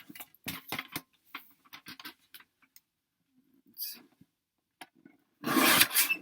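Short rasping scrapes and rubs come from trimming the bottom of a wooden craft gnome, in irregular bursts with quiet gaps between them and a longer, louder scrape near the end.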